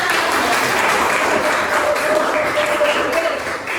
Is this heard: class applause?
yes